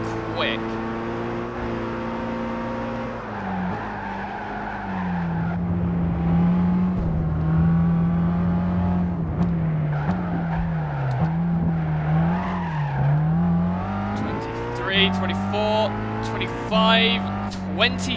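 Race car engine in the Gran Turismo 5 video game, a steady droning whine that rises and falls with shifts, sustained and loud across the stretch alongside game audio.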